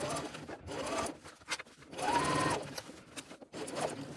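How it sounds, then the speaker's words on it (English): A sewing machine stitches the bottom seam of a tote bag lining in several close, steady bursts, with brief pauses and short back-stitching runs at the start and finish. "Just sew straight along that bottom edge at 3/8 of an inch, back stitching at the beginning and at the end."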